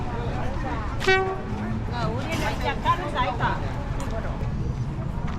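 A tourist tram train in Dalat, Vietnam gives a short, bright horn toot over a continuous background rumble, with people talking nearby.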